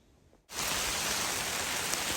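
Steady rain pours onto a trail shelter in the Grayson Highlands on the Appalachian Trail, a dense close hiss that starts abruptly after a quiet moment and holds at an even level throughout.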